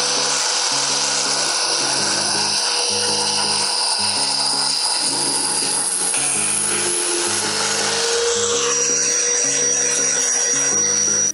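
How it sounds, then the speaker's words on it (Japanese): A power tool cuts screws to length during a DIY home air conditioner install in a camper van, giving a steady, loud high-pitched grinding whine with a pulsing lower drone, close and continuous throughout. "ネジの長さを切ってきました"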